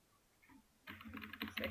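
Keys clatter on a computer keyboard in a quick, uneven burst of close, soft clicks that starts after a brief quiet pause, with faint room hiss underneath.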